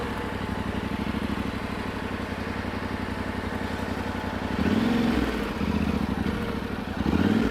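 A Yamaha Tenere 700 adventure motorcycle engine chugs at low revs with a steady rhythmic thump during tight-turn riding practice, swelling briefly with throttle blips near the end.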